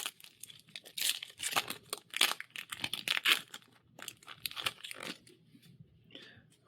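Foil wrapper of a Magic: The Gathering Wilds of Eldraine booster pack being torn open and crinkled by hand, with close, loud bursts of ripping and crackling spread across several seconds.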